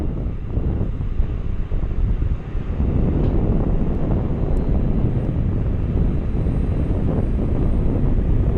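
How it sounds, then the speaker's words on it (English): An Alaska Airlines Airbus A330 in Oneworld livery flies overhead, a loud continuous broadband engine roar with some wind buffeting the microphone, steady throughout with no speech. "Alaska 330, the Oneworld livery heading back to Seattle."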